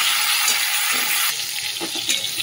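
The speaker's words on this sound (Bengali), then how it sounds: "দেখো বন্ধুরা, সিমটাই যে হালকা করে ভেজে নিয়েছি, তুলে নেবো।" Flat beans frying lightly in oil with salt and turmeric, a steady close sizzle with soft crackle and occasional stirring, no voices.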